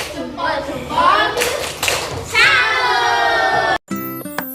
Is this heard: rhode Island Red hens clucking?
no